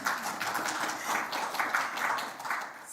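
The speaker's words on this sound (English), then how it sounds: "you're welcome to clap" An audience claps at a university inaugural address, a steady, moderately faint patter of many hands continuing evenly throughout.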